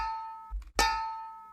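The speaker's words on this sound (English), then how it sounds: "metal ball hit or something like this" A metallic ring from a metal ball hit, with a reversed swell leading into a sharp strike and a long, bright tonal decay, faint and isolated.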